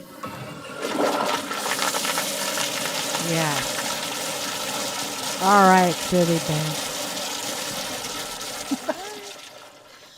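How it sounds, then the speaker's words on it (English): A loud toilet flush gushes and drains, with people talking before and after it and a surge of rushing water in the middle. "we are going to give them a really loud flush"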